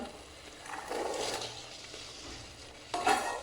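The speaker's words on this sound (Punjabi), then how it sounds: "ਹੁਣ ਆਪਾਂ ਇਹਦੇ ਵਿੱਚ ਪਾਵਾਂਗੇ ਮਟਰ" Peas tipped into a pan of sizzling potato curry, a soft sizzle with stirring scrapes and a brief louder burst near the end.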